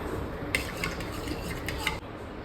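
A spoon stirs spiced mango buttermilk, giving a few light metallic clinks against the vessel over a soft, steady background hiss.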